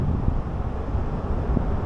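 Steady, blustery wind on a rainy day under a bridge in Japan, rumbling continuously across the microphone, a dense low roar with slight gusty swells and no voices.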